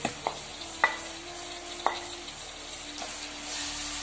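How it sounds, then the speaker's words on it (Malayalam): Tomato, green chilli, ginger and garlic sizzle softly in a pan, with a few sharp utensil clicks from stirring over a faint steady frying hiss. "വീണ്ടും വാഴ്ത്തിയെടുക്കുക"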